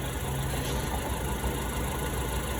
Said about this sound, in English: we're just gonna let it idle, let the oil flow through the engine for a minute